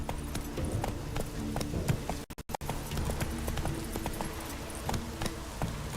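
Horse hooves clip-clop steadily at a quick gait in The Witcher 3 video game, a continuous rhythmic galloping that fills the clip, briefly cut by a short dropout midway.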